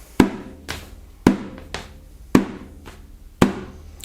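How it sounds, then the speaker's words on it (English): Slap strokes, called pa, struck by hand on a frame drum: five sharp, close hits at uneven spacing, each ringing briefly with a low resonant body before decaying, heard alone with no talk. "you can think of it kind of like as the slap on the frame drum"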